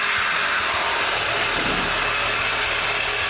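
A truck engine with a damaged exhaust system runs loud and steady for a few seconds, giving a harsh, broadband roar with a low rumble underneath. No one speaks.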